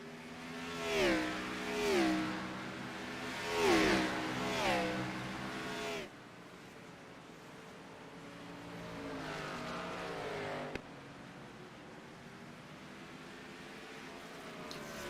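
Race cars roar past on the Bathurst circuit, engines rising and falling in pitch through several loud passes up close, then settling into a steadier, more distant drone of cars lapping.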